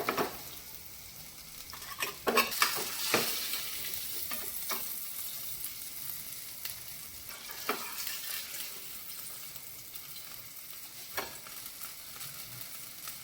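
Pomfret and bombil fish frying in a pan, a steady loud sizzle with clinks and scrapes of a utensil early on, no voices.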